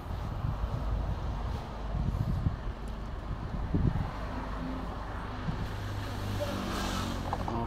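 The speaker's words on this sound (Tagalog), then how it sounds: "Malakas na yung hangin" The air conditioner of an Isuzu MU-X, freshly cleaned and without a cabin filter, blows strong air with a steady, close broadband rush and slight fluctuations, alone without talk.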